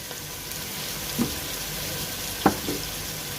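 Chicken samosa filling with chopped coriander and green chillies being quickly stirred in a pan, a steady faint sizzle with a few soft scraping knocks of the spoon, no talking.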